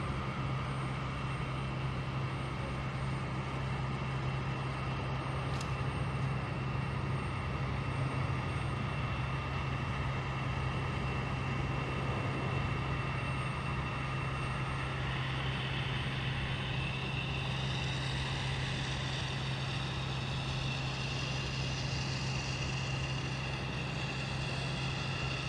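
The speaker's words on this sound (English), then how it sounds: "We have Delta heading to Atlanta in A321," Delta Airbus A321 jet airliner at Boston Logan Airport, a steady broadband engine roar with a low drone, continuous and fairly distant for the whole stretch, with no talk.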